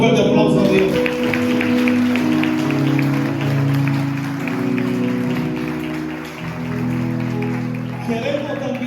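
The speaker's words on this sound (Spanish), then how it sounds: "Dale un fuerte aplauso a Dios" A church congregation at Iglesia de Dios Central applauds loudly, scattered hand claps running through sustained music and raised voices that dominate the sound before tapering near the end.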